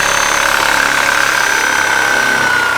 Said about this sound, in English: the Sawzall actually is a little bit better and easier to use